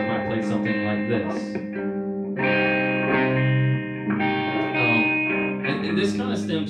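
Distorted electric guitar runs through effects, picking out chord tones in a slow melodic line with sustained notes, loud and alone with no talking.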